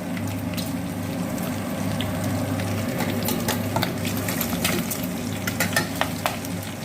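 Pork fat sizzles and crackles steadily in a pot as it renders into cracklings, a dense continuous frying hiss with sharper pops growing more frequent later.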